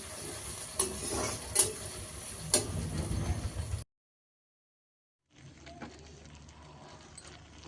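Vegetable curry with masala sizzling in a pan while being stirred, with scraping and clinking from the spoon. The sound stops for a moment of silence, then the quieter frying resumes.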